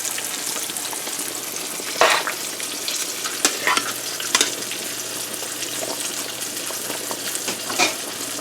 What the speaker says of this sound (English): Fish is frying there.